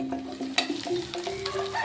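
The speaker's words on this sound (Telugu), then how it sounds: "ఇంకా బాగా ఫ్రై అవ్వాలి" Stuffed brinjal curry (guthi vankaya) sizzles in a pan while a spoon scrapes and stirs it in short, uneven strokes. A low steady hum sits underneath, and no one speaks.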